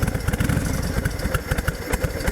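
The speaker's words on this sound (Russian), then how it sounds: "Несмотря на заглушки, двигатель довольно громкий." Loud Honda VTX1300 cruiser engine idling with aftermarket baffles fitted, a close, steady, lumpy low throb with rhythmic pulses and no voices.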